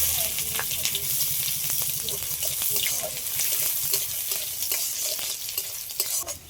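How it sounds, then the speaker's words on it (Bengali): Two bay leaves and chopped onion sizzle steadily in hot oil, with repeated stirring scrapes in the pan and faint running-water sounds in the background. "তেলের পরে দিয়ে দিচ্ছি 2টো তেজপাতা, পেঁয়াজ কুচি"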